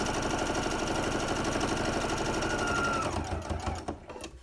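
A sewing machine stitches down the length of a face mask tie, its needle running in a fast, even mechanical whir that holds steady and then slows and stops near the end.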